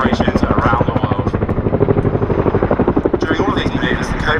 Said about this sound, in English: The display you see today really demonstrates how manoeuvrable this extremely large helicopter is.